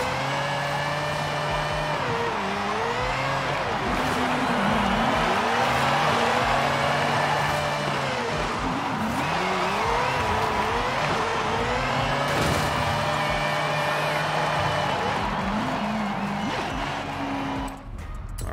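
A Mazda RX-7 drift build in Forza Horizon slides through figure eights, its rotary engine rising and falling in pitch as revs swing, loud and continuous with tire squeal layered over the engine throughout.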